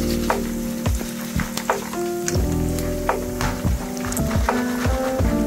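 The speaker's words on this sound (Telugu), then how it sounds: "ఇప్పుడు కరివేపాకు మంచి క్రిస్పీగా అయ్యాక అప్పుడు తీయండి." Curry leaves fry in hot oil for peanut pakodi, giving a loud, continuous close sizzle crowded with sharp crackles and pops, with a faint tonal hum underneath.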